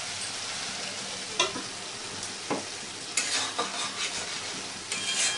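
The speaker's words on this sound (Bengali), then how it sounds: "একবার নাড়াচাড়া করে নিলাম" Potato and broccoli curry frying in a pan gives a steady sizzle with a few scraping stirs of a spatula, close and continuous, with no voices.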